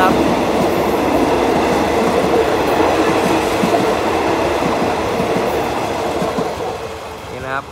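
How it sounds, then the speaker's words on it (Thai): GEA 4525 locomotive hauling express train No. 86 from Nakhon Si Thammarat to Bangkok, with an air-conditioned first-class sleeper and four second-class cars, passing the level crossing south of Ban Pong station: a loud, continuous rumble and clatter of wheels throughout, close by. "นี่นะครับกำลังผ่านบริเวณเครื่องกั้นทางด้านใต้นะครับ ของสถานีบ้านโป่งนะครับ"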